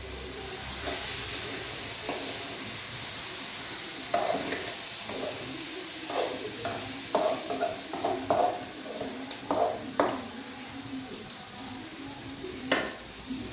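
Food frying in a pan is stirred with a utensil, giving a steady sizzle under repeated scraping and clinking strokes that grow more frequent toward the end.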